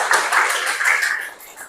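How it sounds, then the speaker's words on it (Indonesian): A short patter of clapping from an audience for a group, several hands clapping closely together in a quick, even rhythm, near and fairly loud, tapering off at the end. "Berikan tepuk tangan untuk kelompok 4."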